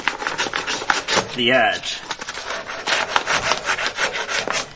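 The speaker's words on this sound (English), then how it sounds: "I take some really fine grit sandpaper, and I just sand" Fine-grit sandpaper rubbing the deburred edge of a pipe during a tub and shower faucet install: quick, close, scratchy strokes in an irregular rhythm, with a brief spoken comment over them.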